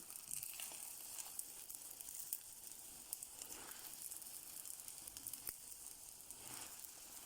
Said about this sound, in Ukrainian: Жаримо спочатку з однієї сторони, тоді перевертаємо і смажимо з іншої.